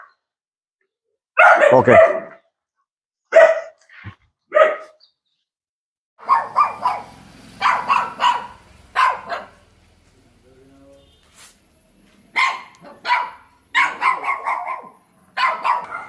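Young puppies of husky, beagle, shih tzu and Doberman breeds give repeated high, sharp yips and barks in scattered bursts with silent gaps between them, and a person speaks briefly among them.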